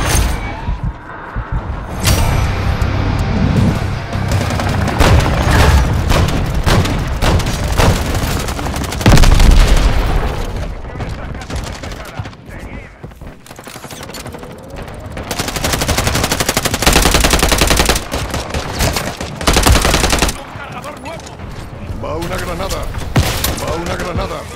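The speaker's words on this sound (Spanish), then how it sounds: "¡Me están disparando!" Rapid machine-gun bursts and single gunshots from a Modern Warfare 3 Invasion match, loud and close, with booms and shattering mixed in, firing in clustered volleys with brief pauses.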